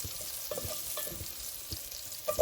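Chili frying in hot oil crackles and sizzles up close, with busy popping and a few stirring clatters over a steady bed of frying noise. No one speaks.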